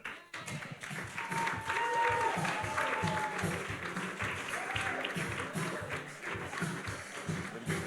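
Applause for an award winner at a Caribbean awards ceremony, a steady mass of clapping from the crowd that runs throughout with voices and tonal sounds mixed in.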